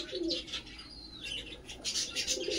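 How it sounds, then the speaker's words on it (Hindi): An adult breeding pair of pigeons coos softly in a loft, with low repeated coos mixed with light chirps and a brief wing flutter, moderately near. "तो ये देखिए भाई कबूतर आप लोग।"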